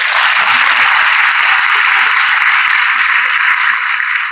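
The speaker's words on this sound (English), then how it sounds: "I would like the audience to again put a great round of applause." A summit audience gives a steady round of applause, dense and loud clapping that holds evenly throughout with no talking over it.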